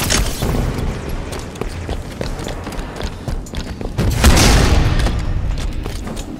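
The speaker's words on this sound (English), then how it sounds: "Grenade on the way." A grenade explosion in Halo 5: Guardians during a Super Fiesta Party social arena match, a loud deep boom swelling near the end over a dense din of gunfire and combat noise.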